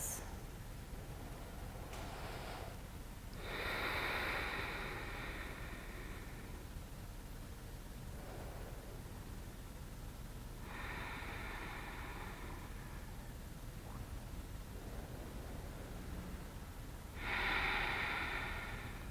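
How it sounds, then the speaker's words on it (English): Slow, deep breaths during a yoga stretch, three long airy inhale-exhale swells spaced several seconds apart over a quiet room hum, close and soft, with no talking. "Just a few more deep breaths."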